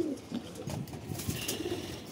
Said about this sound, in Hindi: ये देखिए दोस्तों सारे कबूतर ये रहे।